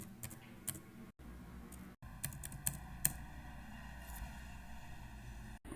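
Python code being typed on a computer keyboard, a steady run of soft close key taps with a few louder clicks and short pauses, no talk over it.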